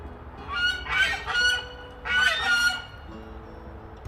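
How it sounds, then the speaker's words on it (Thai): Ducks playing in a backyard water pond let out two loud bursts of raucous honking quacks, close by, with quiet gaps between them. "เป็ดเขาก็จะมาเล่นปาร์ตี้ ปาร์ตี้ในสระน้ำของเขานะคะ"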